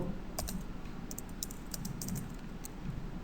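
Titles being typed into an Excel spreadsheet on a computer keyboard, a close, rapid run of light key clicks in an uneven rhythm over a steady low hum.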